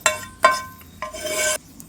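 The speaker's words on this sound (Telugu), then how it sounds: "ఇప్పుడు ఈ పోపు మొత్తం కూడా ఇలా అన్నంలో కలిపేసుకోవాలి" Tempering being mixed into gongura rice for pulihora in a metal vessel, with three bursts of spoon scraping and clinking against the pot, the last one longer and rougher.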